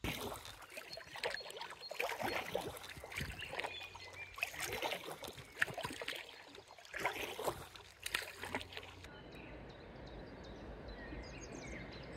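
Inflatable packraft paddled on water with bushcraft baggage aboard, steady paddle splashes and dribbling water close by, repeated strokes for most of the stretch before it settles into a quieter gurgle with faint birds.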